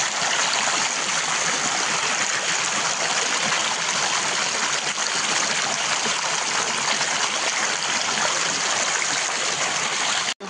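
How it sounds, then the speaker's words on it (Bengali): A waterfall and stream at Hailakandi, a steady broadband rush of falling and flowing water, loud and continuous throughout without pause. "ওই দেখো খুব সুন্দর ঝর্ণা"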